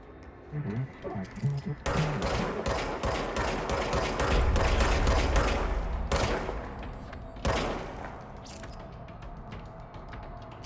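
Sustained automatic gunfire from a weapon in the video game Control, dense rapid bursts from about two to six seconds, then a few louder single shots with brief gaps, loud and close over a low game soundscape.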